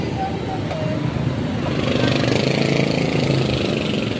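A motorcycle engine idles steadily and close by at a gas station, a constant low rumble with background voices.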